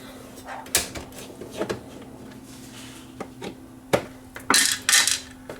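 Small metal screws from a vintage JVC HR7300 top-loader VCR being dropped into its lid, a scattered series of sharp close clicks and clatters with quiet pauses between.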